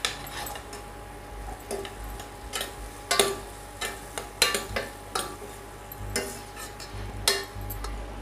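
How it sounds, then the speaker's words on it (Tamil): Carrots and beans sautéed in a pan for horse gram sambar: repeated scraping and clinking of a spoon against the pan in an irregular rhythm over a faint, steady sizzle, close and fairly loud. "காய் நல்லா வதங்கிருச்சு"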